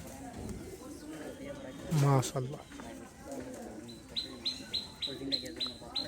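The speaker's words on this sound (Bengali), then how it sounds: "খুব সুন্দর একটা কবুতর এটা" Giribaj pigeons in a loft give soft coos and chirps, with a louder burst of calls near the middle followed by a run of short repeated notes, while someone speaks quietly nearby.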